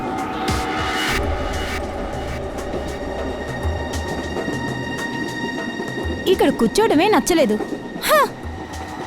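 Steady rumble and rattle inside a moving passenger train carriage, with several voices talking over it and a few sharp high squeals near the end.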